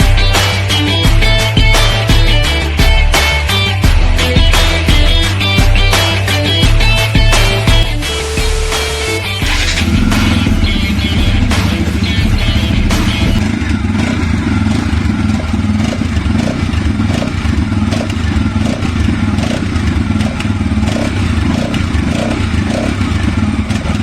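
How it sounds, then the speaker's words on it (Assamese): A 2020 Bajaj Pulsar NS200 BS6 motorcycle rumbles loud and close, its exhaust note steady with a couple of sharp revs rising early on, then settling into a constant throbbing idle. "এই NSৰ চাবিটো দি আপোনালোকক এই বাইকখনৰ এক্সহষ্ট নোটটো শুনাই দিছোঁ"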